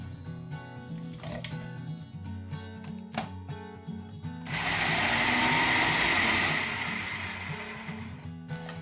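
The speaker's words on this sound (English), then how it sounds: "The easiest way to do this is in several small batches in a food processor." A food processor whirs loudly for several seconds as it blends washed vegetables into a fine paste, rising abruptly after quieter preparation noises with a sustained, buzzing motor roar.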